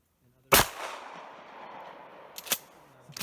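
A shotgun fires experimental dice-loaded shells, the first blast sharp and loud with a long ringing decay, followed about two seconds later by a second, quieter shot.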